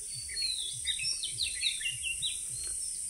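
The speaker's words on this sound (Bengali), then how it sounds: "আপনারা হয়তো আমার কথার ফাঁকে ফাঁকে পাখির কিচিরমিচির ডাক শুনতেই পাচ্ছেন" Birds chirp at dawn, bright thin calls repeating steadily over a soft low background hum, fairly quiet and without talk.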